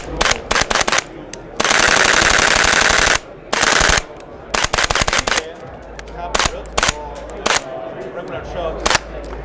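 A rifle fired with a GBLS Smart Mag prototype magazine at SHOT Show 2019, sharp single shots followed by a rapid sustained burst and more shots until the bolt locks back, loud and close, with a person talking between shots.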